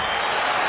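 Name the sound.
hockey fans at Madison Square Garden cheering the Rangers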